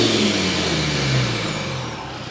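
A Land Rover Defender Td5 diesel engine runs nearby while warming up, a loud steady rumble whose pitch drifts down slightly as the revs settle.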